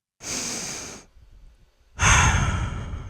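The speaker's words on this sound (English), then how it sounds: "Aang takes a deep breath." Aang draws in a long, deep breath: a breathy inhale of about a second, a brief quiet pause, then a louder, fuller rush of air that runs to the end.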